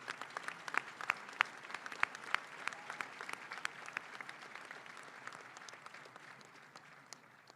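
At a spring 2023 civil and environmental engineering commencement ceremony, the audience applauds the construction engineering graduates. The clapping sounds somewhat distant, with a steady, crowded patter and a few sharper claps, and it gradually thins toward the end.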